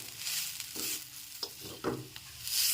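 Vegetables for a vegetable chop stirred and fried in a pan, a close, dense sizzle broken by several spatula scrapes and knocks, no voices.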